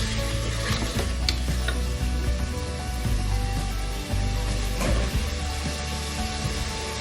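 Softened tomatoes and ginger garlic paste are stirred in a pan, giving a constant close sizzle with occasional spoon scrapes and clinks, and no voices.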